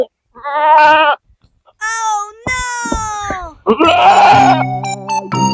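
A goat bleats loudly and close by in several drawn-out, wavering calls separated by short pauses, with a person's voice mixed in among the cries.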